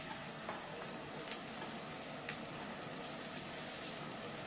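Leaves frying in a pan give a steady, fairly quiet sizzle, broken by two or three brief clinks as they are stirred.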